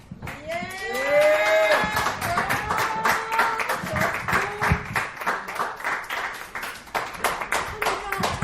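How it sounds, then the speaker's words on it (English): A dive bar comedy club crowd claps and cheers after a stand-up set, close rhythmic handclaps with whoops and voices rising over them, sustained throughout. "another round of applause for Keliah Harris"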